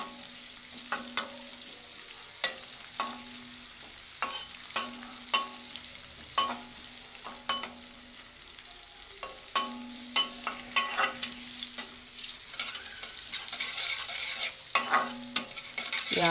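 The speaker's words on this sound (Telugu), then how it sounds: "ఈ ఆయిల్లో ఈ ముక్కలు బాగా వేగాలి." Garlic and ginger pieces frying in oil for a restaurant-style Chicken 65, a soft sizzle broken by repeated sharp scraping stir strokes in a steady rhythm, close and moderately loud, with no talking.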